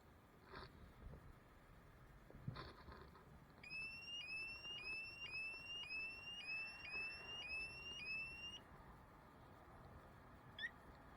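A new anti-theft alarm on a Can-Am Ryker motorcycle goes off with a rapid series of rising electronic chirps repeating for several seconds, moderately loud over outdoor background noise, after a couple of faint knocks.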